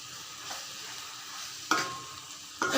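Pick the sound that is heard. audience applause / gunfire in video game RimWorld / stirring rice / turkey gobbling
stirring rice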